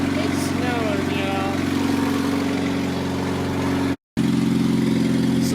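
A 1994 Honda Accord engine idles with a newly installed header, a steady low, humming drone close by, broken by a brief dropout near the end before resuming.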